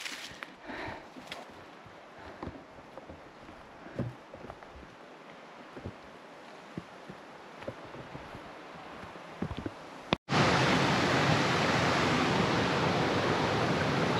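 Rushing waterfall at Danska Fallen in Sweden, at first faint under scattered footsteps and rustling, then suddenly loud, close and steady, a dense broadband roar of falling water.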